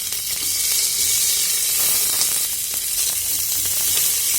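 Chopped onions sizzle loudly and steadily in a frying pan, a continuous bright hiss of frying with small crackles and pops throughout, close up with no talking.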